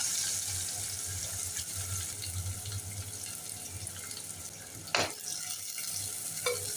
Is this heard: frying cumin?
yes